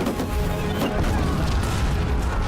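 Booming cannon fire and explosions from a naval battle scene in the film Noryang: Deadly Sea, a dense, continuous rumbling barrage with crackling bursts that keeps loud throughout.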